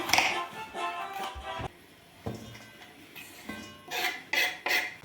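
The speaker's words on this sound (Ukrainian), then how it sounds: "ось будемо ми зараз різати нашу капусточку" A knife chops cabbage on a board in a village kitchen: a series of close, irregular crisp knocks and crunches, with quieter gaps between the cuts and a quick burst of strokes at the end.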